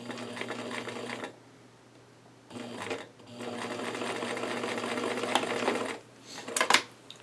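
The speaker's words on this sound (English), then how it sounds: "I'm going to keep sewing this stuff together, chaining like that" A sewing machine chain-stitches folded, pinned fabric pieces in close, steady runs of buzzing stitching, broken by short pauses between pieces and a few quick bursts near the end.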